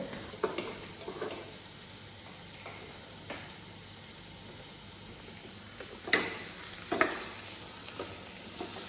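Sliced onions soften in hot oil for a cauliflower dish in a home kitchen, a low continuous sizzle broken by occasional louder scrapes and stirs of a spatula, with no voices.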